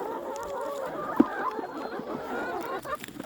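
Chickens cluck softly around a backyard compost bin, with a few scattered low calls and one brief louder squawk over faint outdoor background.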